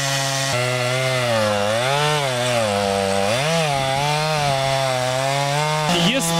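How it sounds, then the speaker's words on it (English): A chainsaw engine drones loudly and continuously as it cuts through a tree, its pitch rising and falling as it bites through the wood, then briefly sputtering at the end. "He's cutting a tree."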